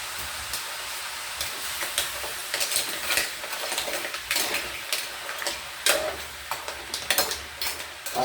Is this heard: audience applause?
no